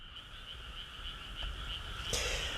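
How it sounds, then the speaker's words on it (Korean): Frogs croak in a continuous chorus after midnight in a quiet border village on Ganghwa Island, South Korea, a steady moderately distant trill with no voices. "개구리 소리만 들리고 있는 이곳"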